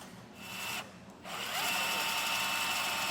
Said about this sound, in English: we're going to use a 1-inch hole saw in order to drill out our main hole larger